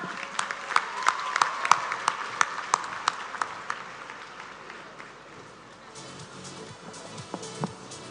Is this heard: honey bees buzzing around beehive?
no